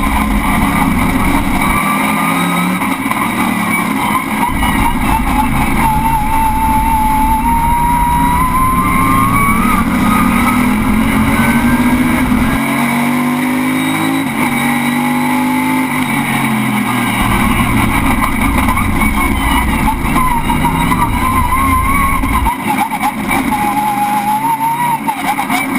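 A 500 bhp, 1,000 kg time attack race car screams around Achna Speedway in Cyprus, its engine loud and near, revving up and down through gear changes for the whole stretch.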